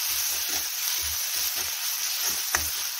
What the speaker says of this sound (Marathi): 1-2 मिनिट आपण छान असं हे फ्राय करून घेऊया.